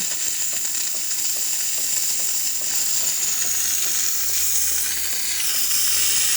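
A steady, loud hiss of steam streams continuously from a Jura coffee machine, with a faint low hum underneath.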